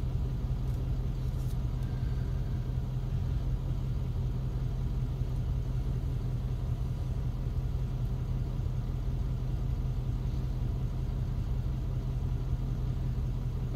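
Ford car engine idling, a low steady rumble with an even pulse that holds throughout, heard alone without talk.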